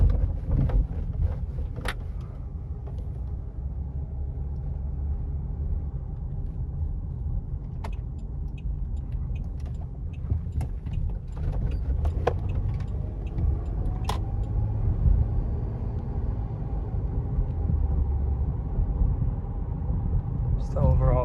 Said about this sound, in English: here's the car on bumps before the new suspension.